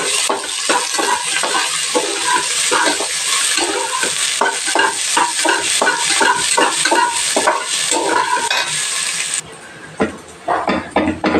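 Onions sauté in a pan for an Aadi Amavasai meal, giving a loud, continuous sizzle broken by rapid, repeated scraping strokes of a stirring utensil, with a short quieter stretch near the end.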